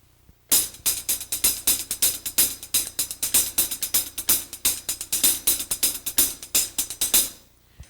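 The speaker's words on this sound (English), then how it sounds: "I'll play it on the hi-hat." Sticks on a hi-hat playing a fast paradiddle pattern with accents, dense crisp strokes in a steady rhythm for several seconds, close and clear, no voice.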